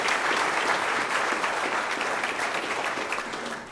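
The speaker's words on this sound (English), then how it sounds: "Give this man a round of applause." A crowd at a political town hall in Springfield, Ohio gives a round of applause for a combat veteran; dense, steady clapping that slowly fades toward the end, with no talk over it.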